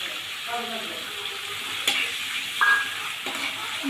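Spice paste cooked in oil for doi katla, with ground pistachio and poppy seed paste going in: a low oily sizzle under a few soft scrapes and clinks of a spoon, one sharper knock near the middle.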